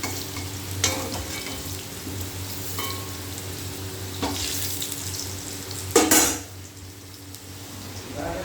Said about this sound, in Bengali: এই যে আলুটাকে ভাজতে দিয়েছি, আলুটা ভাজা হচ্ছে